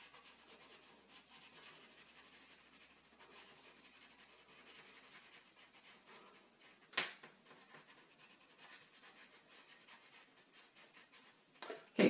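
A marker or pen scratches and rubs on paper while coloring an area in black for a Christmas drawing of Rudolph, with quiet, continuous strokes and a couple of sharp taps near the end.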